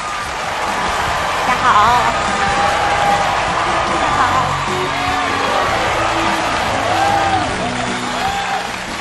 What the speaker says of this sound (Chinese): 非常谢谢你们的掌声